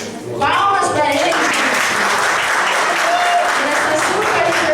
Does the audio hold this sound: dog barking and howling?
no